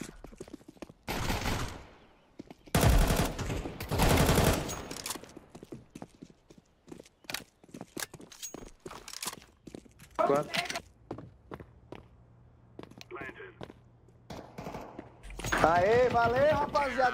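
Bursts of video game gunfire, with several loud volleys early on and a spray of sharp cracks later, mixed with footsteps and someone talking in Portuguese over the action.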